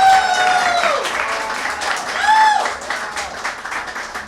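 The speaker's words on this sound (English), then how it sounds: "So to Erin Stevens and the InterGov staff, a round of applause." Applause for event staff at a Pride Month celebration, a continuous bed of clapping from the audience with whoops and cheers rising above it, fairly loud and close throughout.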